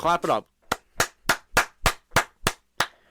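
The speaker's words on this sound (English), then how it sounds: "Clap it up." A steady run of eight sharp hand claps, evenly spaced and close, follows a short burst of excited talk from a Red Sox fan.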